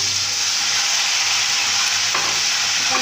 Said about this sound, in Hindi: अब मैं इसमें जो है वो चिकन ऐड करूँगी।